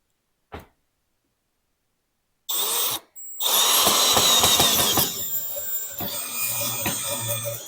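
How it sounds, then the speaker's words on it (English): A click, then a power drill whirs in loud bursts close by, driving screws, its motor pitch shifting as it drives in, with mechanical rattling. "We're going to do the drill on the 3rd one."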